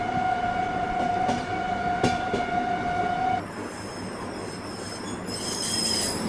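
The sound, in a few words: Rajdhani Express train departing Kota junction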